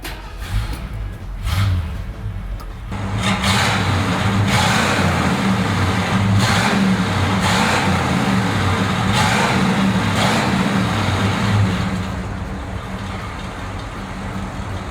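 A 1978 Ford Ranchero GT V8 with dual exhaust starts and revs steadily with a deep, rumbling idle. It swells into several loud, repeated throttle blips and then settles back, close and alone with no talking.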